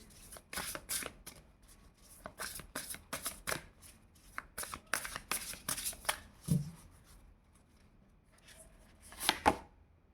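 Tarot cards are shuffled by hand in a run of quick riffling bursts that repeat steadily, close and fairly quiet, with a brief clatter and a louder shuffle toward the end; no one speaks.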